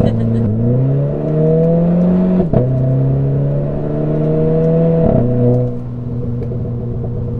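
A Renault Clio 4 RS Trophy engine hums under load, rising in pitch then dropping sharply twice as its automatic gearbox shifts; steady and fairly loud, heard from inside.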